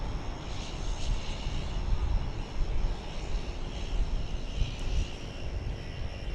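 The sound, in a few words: American Airlines flight 1108 from Detroit arriving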